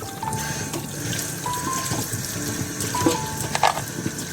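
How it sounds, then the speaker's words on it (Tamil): Water running to rinse the drum of a top-loading washing machine, a continuous splashing flow with a few squeaky tones and clunks, close and without talk. "தண்ணி விட்டு கழுவி வேண்டிதான்."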